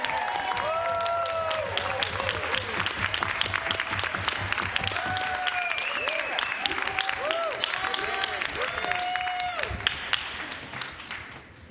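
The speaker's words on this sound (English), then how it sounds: "let's have a round of applause" Sustained applause fills a convention hall for the chairman, dense clapping from a large crowd with scattered voices mixed in, holding steady before tapering off at the end.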